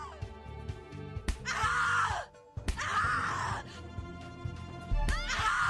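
A woman screams in The Cat Lady video game, long anguished wails repeated three times with short gaps, loud and strained over a faint low backing.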